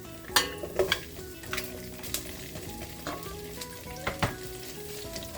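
Ground beef and vegetables sautéing in a pan for a mekus mekus stir-fry, with a steady sizzle broken by sharp clinks and scrapes of a utensil stirring against the pan.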